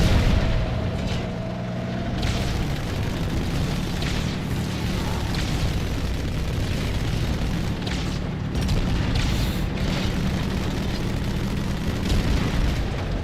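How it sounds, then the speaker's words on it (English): Tank rounds fire and explode in a dense, roaring barrage during a Halo 2 Arbiter campaign battle, heavy booms rolling over one another continuously and loudly without pause. "why aren't any of these tank rounds hitting these guys?"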